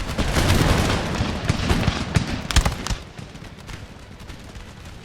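Musket volleys in the video game Empire: Total War crackle as dense, overlapping gunfire, loud at first and tapering off into scattered shots and a distant rumble of battle.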